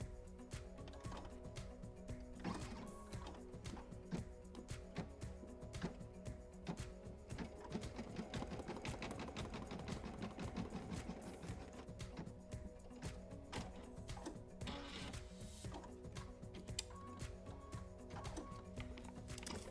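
A sewing machine stitches a black placement line on fabric for a pennant, a steady rapid mechanical chatter running continuously at close range with no talking.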